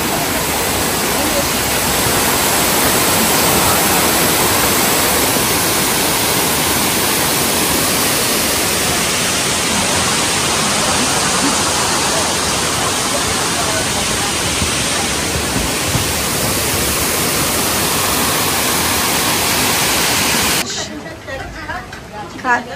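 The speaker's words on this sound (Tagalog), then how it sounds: "Waterfall!" Dense, broadband rush of a waterfall near Cat Cat Village in Vietnam, loud and constant for about twenty seconds, with a person's voice faintly mixed in and the roar ending abruptly near the end.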